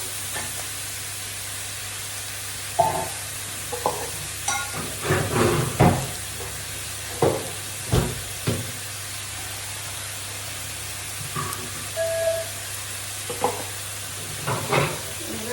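Eggplant lightly frying in a pan gives a low steady sizzle, with scattered scraping stirs and soft knocks of the spoon coming every second or so at close range.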